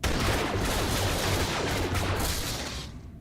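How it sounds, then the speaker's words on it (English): Rapid blaster-pistol fire in the Star Wars: The Old Republic video game, a dense continuous volley of shots loud and close for about three seconds, then cutting off abruptly. "walk down the ramp and shoot them all with my pistol"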